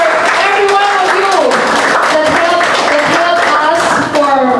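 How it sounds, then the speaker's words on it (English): A church congregation claps together as an offering to the Lord, a loud, steady wash of rapid hand claps filling the room while a voice speaks or sings over the applause throughout. "Give a clap offering to the Lord for the victory"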